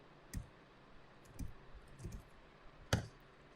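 A handful of sparse keyboard clicks, four soft key presses at a computer running a command prompt, ending in one sharper, louder tap like the Enter key, close and quiet in a still room.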